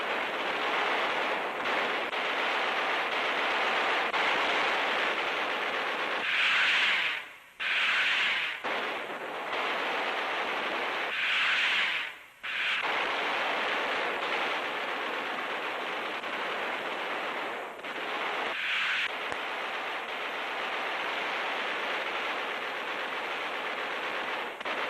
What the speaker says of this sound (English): This is a sample of the terrific barrage now being hurled skyward to meet the enemy's raiders.